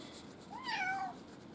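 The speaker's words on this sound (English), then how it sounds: "And that's my cat, if you can hear her meowing in the background." A cat gives a single clear, rising-then-falling meow from somewhere in the room, fairly faint against a quiet background.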